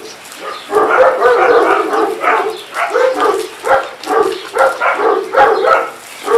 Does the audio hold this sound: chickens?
no